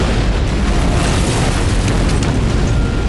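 A massive explosion at a large fireworks factory in Devon, England, set off by a spark igniting 18,000 pounds of explosives, roars as a loud, sustained rumbling blast with no talking.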